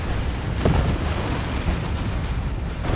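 A rocket run airstrike in the real-time strategy game Dawn of War 2, Imperial Guard against Orks, erupts as a loud, continuous roar of rumbling explosions with heavy low booms and no pause.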